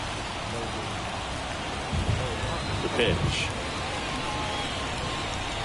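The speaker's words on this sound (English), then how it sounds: "It really feels like we might be running out of time before a rain delay is called. This rain is not letting up." Steady, hissing rain falls over a baseball stadium in MLB The Show 24 during an Angels versus Dodgers spring training game, a dense wash of noise under brief commentary.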